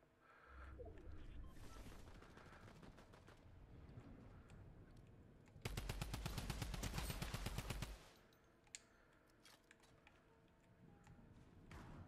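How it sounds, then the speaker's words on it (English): Video game gunfire in rapid automatic bursts, with crackling shots in the first half and then a louder, dense volley of steady rapid fire before it drops away to a few scattered pops. "They're shooting each other."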